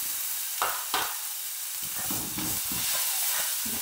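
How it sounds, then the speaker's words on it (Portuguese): Chopped onion and garlic sauté in a pan, a steady low sizzle broken by a couple of sharp stirring scrapes near the start, then a gentle bubbling crackle that continues close and moderately loud with no talking. "aqui estou refogando já a cebola"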